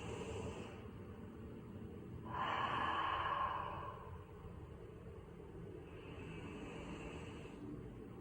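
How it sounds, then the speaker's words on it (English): Slow, deliberate breaths drawn in through the nose and pushed out through the mouth, faint and close, a few long airy swells in an otherwise quiet room. "breathe in through your nose and out through your mouth"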